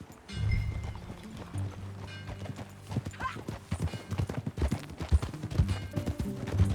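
Rhythmic horse hooves clip-clopping at a steady trot in the video game Red Dead Redemption 2, fairly close, with low rumbling background and occasional faint voices.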